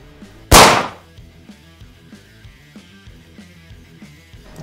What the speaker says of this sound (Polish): Strzał kontrolny.